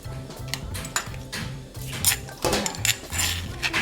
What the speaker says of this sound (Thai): พริกกับกระเทียมนะคะนี่ค่ะโขลกหยาบๆเลยค่ะ